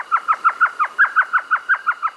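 A small elf owl, gray-feathered and yellow-eyed, gives a rapid run of about a dozen evenly spaced high yelping notes, clear and fairly close with no other sound.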